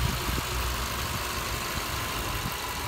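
A 2008 Subaru Liberty's 2.5 litre four-cylinder engine idles steadily under an open bonnet, a low even rumble throughout the short stretch with no talk.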